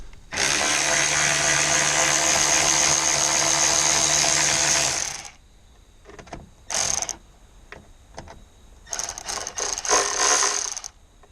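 A ratchet with an 11mm deep socket works a bolt loose on a 2003 Ford F250's aftermarket tow mirror, giving a sustained close clicking whir followed by short bursts of ratcheting separated by pauses.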